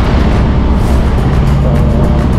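A Yamaha Mio Gear scooter climbs a zigzag uphill road, its engine a loud, constant drone mixed with rushing wind noise throughout.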